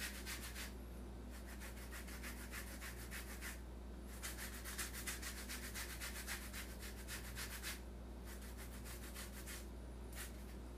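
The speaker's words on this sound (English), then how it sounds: "So after you grate your oranges, put your grater aside" Oranges are rubbed across a grater in rhythmic bursts of quiet rasping strokes, with short pauses between runs, for a plant-based vegan cake.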